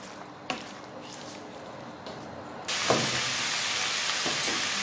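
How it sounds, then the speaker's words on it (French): Garlic, onions and bunch onions stirred in a hot pan give a sudden steady hiss of frying that swells partway through, with soft scraping thuds of the utensil. "Donc voilà, je vais mélanger."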